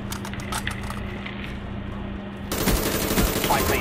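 Video game gunfire: a quieter stretch of muffled game noise gives way to a loud, dense burst of rapid shots in the final second and a half.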